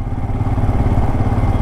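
A 2022 Royal Enfield Scram 411 scrambler motorcycle engine running close by at light throttle, a loud, steady low thumping rumble with a fast even pulse, with no talk over it.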